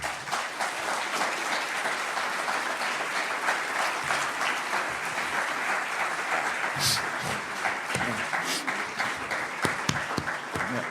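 After Slavoj Žižek's lecture, a large audience keeps up steady, thick applause for about eleven seconds, a sustained crackle of many hands with a few sharper, nearer claps standing out.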